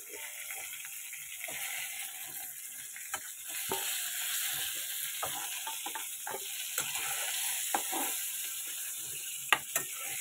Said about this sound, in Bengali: টমেটোটা ভাজা হতে থাকুক